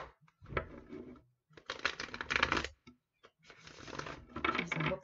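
Tarot cards are shuffled right against the microphone in loud, crisp riffling bursts, with three main rounds of rapid flapping separated by short pauses.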